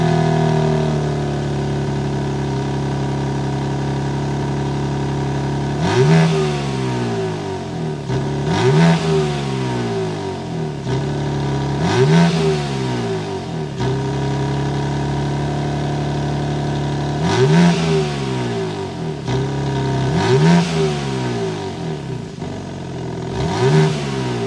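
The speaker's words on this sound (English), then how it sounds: "Let's go inside and hear that exhaust note." A 2022 BMW M4 coupe revs repeatedly from inside the cabin, about seven sharp throttle blips rising and falling over a steady idle rumble, loud and close.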